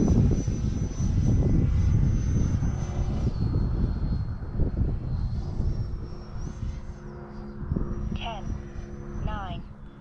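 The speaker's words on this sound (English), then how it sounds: "the more I fly the GRIPEN, the JAS-39 GRIPEN, the more I'm enjoying her" A Freewing JAS-39 Gripen 80mm electric ducted-fan RC jet flies past with a steady whining drone that rises and falls, with wind buffeting and a person talking over it.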